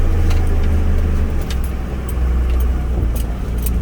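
A 4x4 overlander lorry drives off-road, its engine a loud, close, steady low rumble with rattles and knocks from the bodywork over rough ground.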